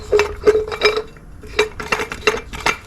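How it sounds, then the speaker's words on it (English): A metal lid is fitted upside down onto a paint can of red spray-type paint, making repeated sharp metallic taps and clinks in an uneven rhythm, close and fairly loud. "we'll put this on and tape the lid on upside down"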